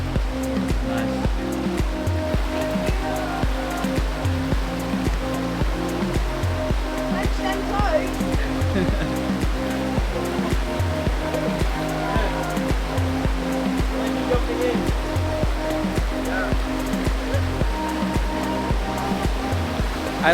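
A waterfall in Dumaguete City, Negros Oriental, pours with a loud, steady, unbroken roar of rushing water close by, with faint voices mixed into the constant wash.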